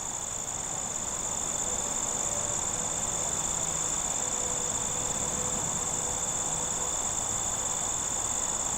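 Insects sing on goldenrod in a mountain meadow, a continuous high cricket-like trill that holds steady over a soft background hum, with no voices.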